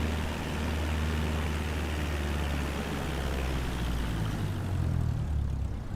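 Single-engine Cessna 172 propeller airplane near the runway, its engine a loud, steady droning roar with a low rumble that holds throughout, with no talking.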